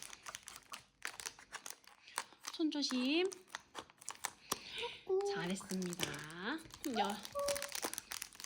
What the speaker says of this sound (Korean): 가위를 사용해서 조심조심 뜯어주세요.